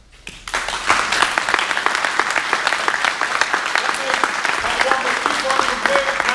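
Audience clapping after a gold-final match, starting abruptly and holding as a steady, dense round of applause from a crowd close by, with a few faint voices mixed in.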